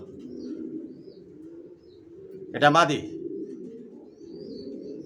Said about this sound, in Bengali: টপ কোয়ালিটি এ গ্রেড কবুতর এগুলো